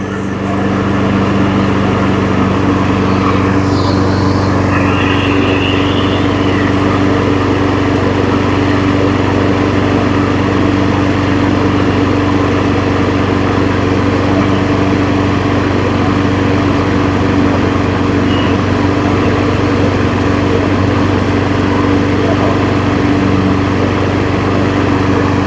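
A Honda push lawn mower engine starts and runs on concrete, a steady continuous engine drone holding at constant loud level for the whole stretch with no pauses.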